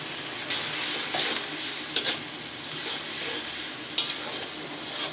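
Ground cumin, turmeric, coriander and salt sauté for a pangas fish head and bottle gourd curry, producing a steady, close hiss with a few sharp stirring knocks against the pan.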